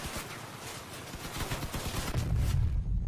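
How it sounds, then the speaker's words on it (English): Burst gunfire from a vehicle weapon in the Crossout combat video game: rapid, clustered shots crackling in quick repeated bursts at moderate volume, building into a heavier rumbling volley toward the end, with no talking. "Now we can fire at a distance. Just burst fire."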